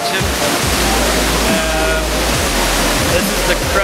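Rushing whitewater on the Eagle section of the Beaver River, a loud, continuous broadband roar filling the scene close by, with no breaks.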